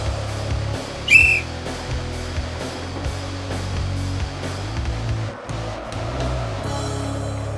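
A single sharp whistle blast cuts through steady background noise, then fades, leaving a continuous low rumble with occasional knocks.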